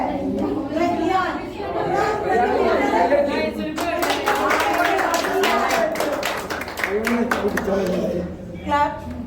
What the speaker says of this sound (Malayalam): ക്ലാപ്പ്